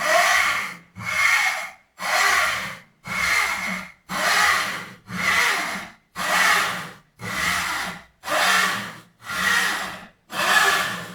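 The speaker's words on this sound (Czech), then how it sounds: "vidíme, že pila řeže rychle, protože už jsme v polovině" A handsaw cuts through wood, already halfway through, in steady, even strokes, about ten rhythmic rasping pushes close to the listener, with brief pauses between each.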